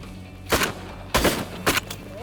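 Shotgun blasts while hunting birds, with three loud, close shots spread over two seconds, each a sharp boom with a short tail over a steady outdoor background.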